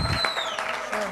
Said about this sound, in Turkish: Alkışlar Atay'a gitsin.